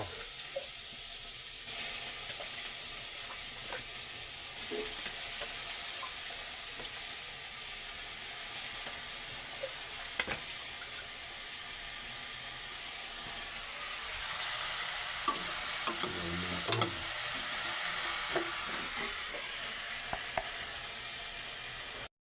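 Steady sizzling and frying as squash is stirred into a sardine dish cooking in a pan, with scraping stir strokes and small clatters throughout, no talking.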